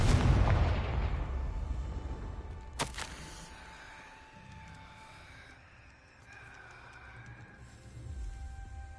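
A Confringo blasting spell explodes in the Hogwarts Legacy video game with a loud booming burst that rumbles and decays. A sharp crack follows, then a fading ambient rumble.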